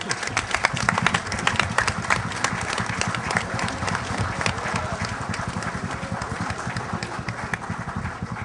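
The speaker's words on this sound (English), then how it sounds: "Give them a round of applause as they come." A large town hall audience at a leadership conference gives a sustained round of applause, many hands clapping at a moderate distance in a steady, even wash.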